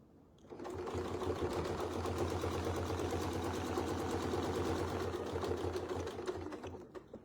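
A sewing machine stitches a quilt block, a steady close mechanical chatter of rapid needle strokes running for about six seconds before slowing to a stop.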